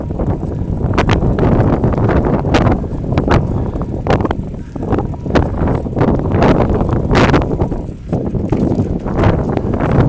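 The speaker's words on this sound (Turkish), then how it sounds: "Bu rüzgar da beni rahatsız ediyor." Steady wind buffets an outdoor microphone on a village street, a continuous low rumble with gusty swells throughout the whole stretch and no talk over it.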